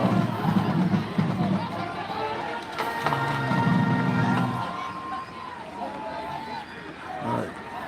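Steady crowd noise fills the stands at a high school football game between Choctaw and St. Augustine, a constant murmur with a few swells of cheering and no distinct voices on top.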